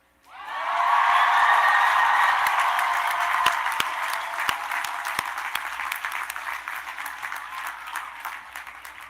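A large university commencement audience bursts into sustained applause and cheering, loud at first and then gradually thinning into scattered clapping.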